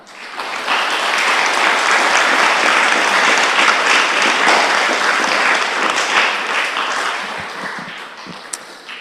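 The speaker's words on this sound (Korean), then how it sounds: "나오실 때에 하나님 앞에 영광의 박수로 환영하겠습니다." A church congregation applauds to welcome the pastor to the pulpit at a Sunday service, loud dense clapping that swells quickly, holds steady, then thins toward the end.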